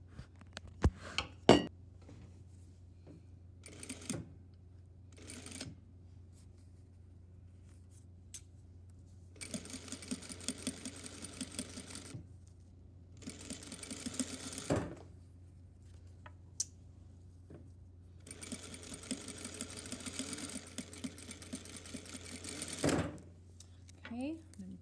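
A home sewing machine back stitching a flat felled seam runs in several short and longer bursts of whirring, separated by pauses with small clicks and handling noises, at a low level.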